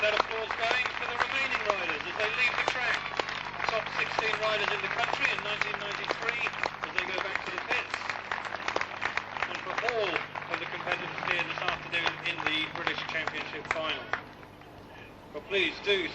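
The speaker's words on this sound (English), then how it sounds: "keep that applause going for the remaining riders as they leave the track" Crowd applause at the 1993 British Senior Individual cycle speedway final as riders leave the track, steady dense clapping throughout with a voice heard over it, thinning briefly near the end.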